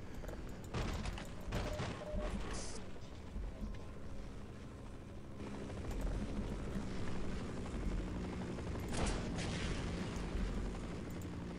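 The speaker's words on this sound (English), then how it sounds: "This helicopter's like indestructible." A combat helicopter in Half-Life keeps up a loud, continuous rotor and engine roar, broken by bursts of gunfire and booming explosions, all heard without any talking.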